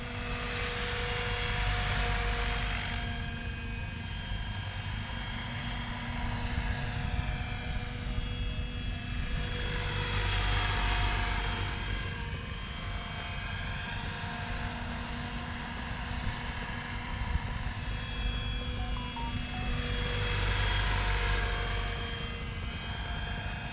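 A SAB Goblin RAW 700 RC helicopter flies with a steady high-pitched turbine-like whine and rotor buzz, swelling and fading in repeated passes about every ten seconds, loud and alone with no talk.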